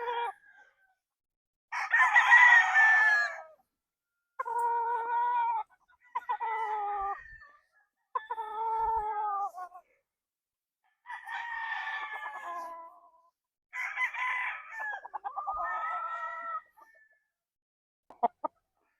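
An eight-month-old Sweater by Boston Roundhead gamecock stag crowing repeatedly and clucking close by, several loud drawn-out crows separated by short pauses, with no talking.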